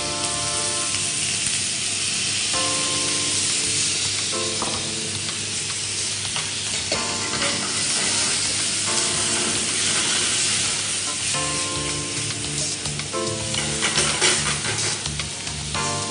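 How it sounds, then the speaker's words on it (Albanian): Onion and peppers sizzle loudly in a hot pan, with repeated stirring strokes scraping through the oil in uneven bursts over a constant frying hiss, no voices present. "Atëherë do skuqim qepën pak Iva."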